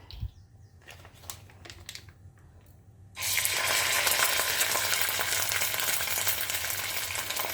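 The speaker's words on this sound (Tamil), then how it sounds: "நம்ம எண்ணெய் இப்போ லேசாக சுட ஆரம்பிச்சிருக்கு. நம்ம இஞ்சி பூண்டு விழுதை ஆட் பண்ணிக்கலாம்." Ginger garlic paste hitting hot oil in a single pot: a few quiet clinks and taps, then a sudden loud, dense crackling sizzle that carries on steadily, close up with no talking.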